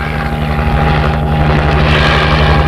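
A helicopter on a rescue operation in 1962 newsreel footage, with a loud, continuous rotor and engine drone that holds steady throughout with no pauses.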